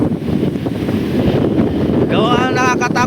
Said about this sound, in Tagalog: Tapos ganito ang lakas ng hangin.